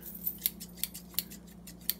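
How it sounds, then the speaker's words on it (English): Rose gold scissors snip through paper, giving about six quick, crisp cuts in an uneven rhythm, faint and close in a quiet room. "the scissors."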